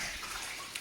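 Water trickles steadily over a pet monkey during a bath with shampoo, a soft continuous wash of running water, close and even throughout.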